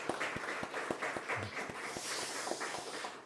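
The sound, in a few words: applause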